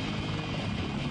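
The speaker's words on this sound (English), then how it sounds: "It's the V-22 Ospreay! It's a helicopter! It's a fixed-wing airplane!" Close, loud, continuous rotor and engine roar of a V-22 Osprey tiltrotor aircraft in flight, a dense steady throb with no break.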